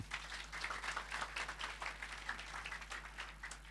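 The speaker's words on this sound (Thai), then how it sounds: "ขอเสียงปรบมือผู้นำนวนครนะครับ" An audience claps for business leaders at a gathering, with sustained applause heard alone and faint, over a low steady hum.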